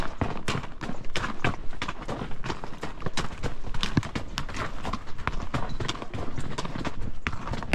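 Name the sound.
horses walking on a rocky trail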